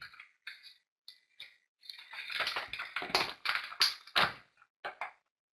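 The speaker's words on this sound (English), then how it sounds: "I see somebody's typing." Keys on a computer keyboard clack in short bursts, sparse taps at first and then a quick run of typing, close and fairly quiet with no talk.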